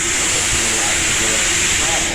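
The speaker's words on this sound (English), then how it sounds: "Oh, the steam coming out. The steam coming out." Loud, steady hiss of steam escaping from Southern Railway No. 4501, a steam locomotive, broad and rushing, with a low rumble and muffled voices underneath.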